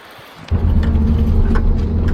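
Strong wind gusts roar against the microphone outdoors in a New Zealand forestry setting, a loud steady low buffeting that starts abruptly after a quiet half second.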